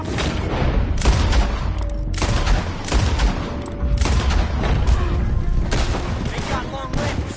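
Bursts of gunfire and booms from a PS4 Lord of the Rings game battle, rapid volleys repeating loudly through the whole stretch with a steady rumbling background underneath.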